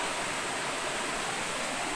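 A forest waterfall pours in a steady, full rush of broadband water noise, constant and close, with no voices over it.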